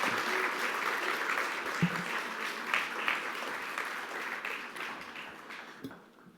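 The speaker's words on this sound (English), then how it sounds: "I'd like to invite all delegates to give a warm round of applause by way of thanks to our speakers and exhibitors today." A conference audience of delegates gives a warm round of applause for the speakers and exhibitors: dense, sustained clapping from many hands filling the room, tapering off near the end, with no speech over it.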